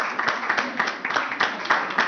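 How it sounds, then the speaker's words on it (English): An audience at an award ceremony claps in a brief, fairly dense burst of applause, many hands close together and steady throughout. "Please clap for them, even if you are the losing team."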